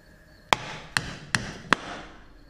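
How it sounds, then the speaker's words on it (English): A hammer taps a differential cover off its dowels on a VE SS/HSV ZF diff: four sharp metallic knocks, evenly spaced about half a second apart, close and clear in a quiet workshop. "give the hat a bit of a tap both ways to get it off the dowels"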